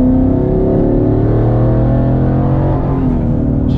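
A twin-turbo Ford Mustang GT fitted with an XL turbo exhaust whistle rolls into throttle, its loud, close engine note rising steadily and droning on without pause.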